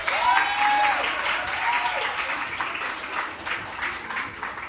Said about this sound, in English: A big round of applause to let everyone know we're about to start.